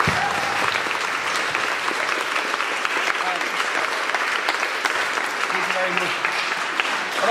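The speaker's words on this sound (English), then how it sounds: "So if we just give them a round of applause very quickly." Steady round of applause from an audience at a young fashion designers' runway competition, dense and even throughout, with a few voices faintly underneath.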